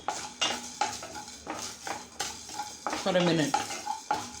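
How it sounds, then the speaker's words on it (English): Jeera and peppercorns are dry-fried in a pan, with repeated spoon-on-metal stirring strokes in a steady rhythm over a faint sizzle, and a brief spoken phrase. "Now the Jeera and the peppercorns are fried well."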